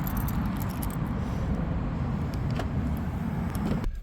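A BYD Atto 3 parked outside with a low steady rumble around it, a few short clicks and light clacks of the lock and door scattered through, and a sharper knock near the end.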